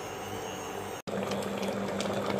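Homemade tomato ketchup thickens on the stove as it is stirred, giving a soft bubbling, watery churn with a steady low hum. A brief cut breaks it, then it resumes.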